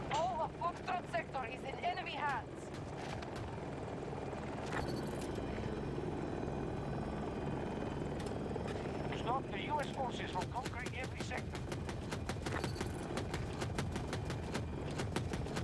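A Little Bird helicopter passes overhead in a military shooter game, its rotor thumping steadily throughout beneath a busy mix of gunfire, explosions and other battle noise, with players talking over it.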